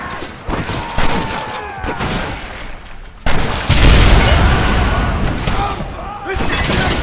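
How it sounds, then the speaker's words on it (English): Gatling gun fire in Red Dead Redemption, loud rapid bursts of gunfire with booming impacts that pause briefly and then return heavier, mixed with shouting voices. "You man the Gatling gun"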